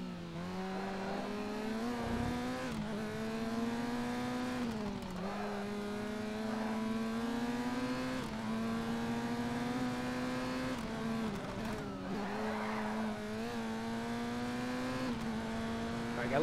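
Race car engine in the video game Race Driver: GRID, a steady high-pitched engine drone with rising and falling pitch through gear shifts, continuous and prominent throughout, with faint tire noise.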